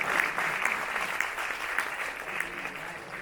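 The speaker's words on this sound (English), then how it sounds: "You should clap because I'm transitioning to the next part." Audience at a stand-up comedy show at a university Eid event clapping steadily for a few seconds, a dense even patter of many hands with no talk over it.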